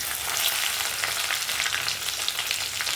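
Five crushed garlic cloves hit hot oil in a pan with dried red chillies and a piece of cinnamon, giving a continuous bright sizzle and crackle close up, with no voices.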